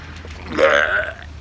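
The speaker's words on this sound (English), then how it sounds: "there's a burp for you" One loud, close burp rises and holds for about half a second before fading, with nothing else around it.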